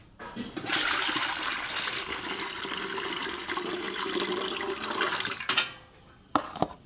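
Milky white water is poured off freshly made paneer in one steady, splashing stream lasting several seconds, followed by a few faint drips and small splashes.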